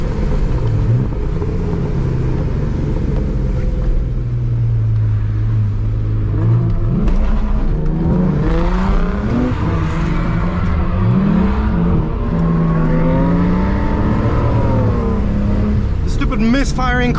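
A street drift car's engine revs hard and misfires, stumbling and surging in uneven bursts, loud and close throughout, with someone talking over it.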